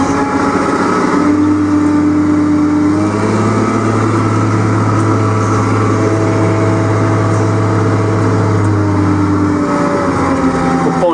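A 1999 John Deere 748GLL skidder engine runs steadily at close range, a deep constant drone with a rising pitch shift partway through, loud and continuous with no talk.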